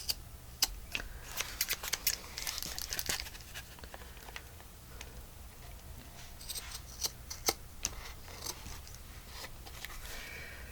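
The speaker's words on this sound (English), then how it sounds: "Get my long scissors so I can get in here and get up against the" Long scissors cut through card while a journal cover is being made, giving a series of quiet, crisp snips and rustles spread irregularly across the stretch, close up and without talk.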